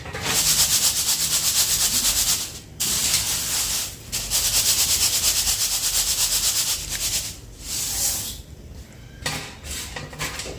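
Puffed rice is shaken in a sieve while chivda is made, giving a dry, rhythmic rustling and scraping in bursts separated by short pauses, close and fairly loud, with no talk.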